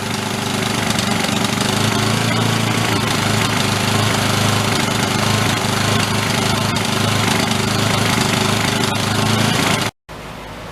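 Old generator engine running loud and close, its steady mid-pitched drone rising and falling slightly as the throttle hunts to hold RPM, with a brief dropout near the end.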